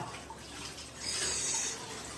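Dishes are washed under running tap water in a home kitchen, a soft steady hiss of water that swells briefly louder partway through, with no talking.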